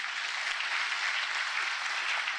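A church congregation applauding loudly during a worship service, steady dense clapping sustained evenly for a couple of seconds with no speech on top.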